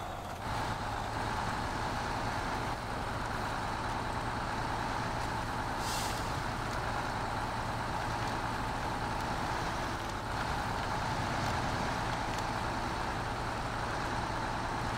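Modded MAN TGS480 10x4 truck driving in the Snowrunner video game, a continuous loud engine drone with steady road rumble and no break across the whole stretch.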